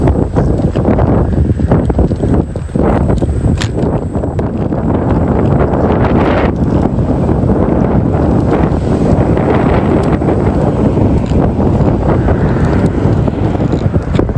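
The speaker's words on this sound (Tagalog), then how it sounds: "Hangin, sarap ng hangin." Steady wind roars across the microphone for the whole stretch, a loud, buffeting low rumble with a faint watery wash underneath and no voices.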